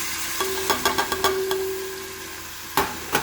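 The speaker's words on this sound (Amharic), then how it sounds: "ከዛ ዘይቴ ትንሽ ጋል ካለ በኋላ ሽንኩርት ጨምራለሁ ማለት ነው።" Onion dropped into hot oil in a pan while preparing Ethiopian key wot, giving a steady sizzle with a few sharp clatters and spoon stirs near the start and again toward the end, no talk.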